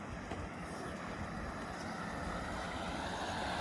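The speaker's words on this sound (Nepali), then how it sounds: "तलबाट पानी गइरहेको छ गाइज। खतरासँग पानी गइरहेको छ।" Water rushes steadily below a vantage point in Japan, a constant loud broadband roar with no talk, mixed with some wind noise.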